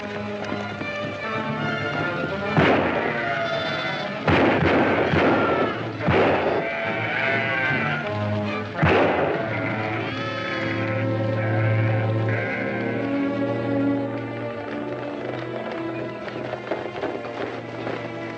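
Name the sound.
sheep bleating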